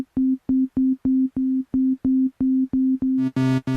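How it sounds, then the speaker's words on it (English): A Korg ESX synth voice plays a pure sine wave tone from its wavetable, repeated as a string of about a dozen short, evenly spaced beeps at one pitch. A denser, buzzier tone closes the phrase. "I'm going to change it to a sine wave."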